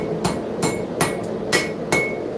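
A rounding hammer striking hot steel at a small forge, five sharp ringing blows at a steady rhythm about every half second, close and clear.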